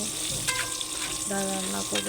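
Green chillies with turmeric and salt fry lightly in oil for lentils, giving a steady close sizzle with a few stir scrapes and tonal clinks of utensil on pan, with no voices.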